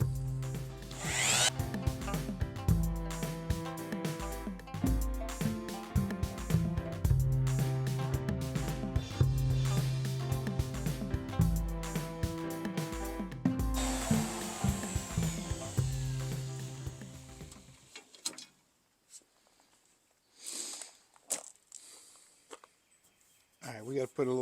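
Power tools run loudly for about fifteen seconds, the harsh buzz of a DA sander with a fresh pad working a pickup truck bed, then stop into near quiet with a few brief bursts near the end.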